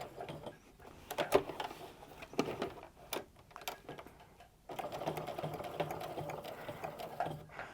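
A sewing machine stitches a crossbody sling bag in short, quiet bursts with brief pauses, then runs in one longer continuous stretch, close and soft with no talking.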